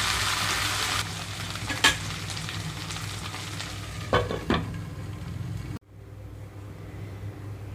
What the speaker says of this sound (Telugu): ఆయిల్ హీట్ అయిన తర్వాత బెండకాయ ముక్కలు మొత్తం వేస్తున్నాను